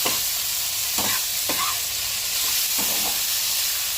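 Chicken coated in ginger and garlic fries lightly in a pan with a steady hissing sizzle, broken by several scraping knocks of a spatula stirring the meat.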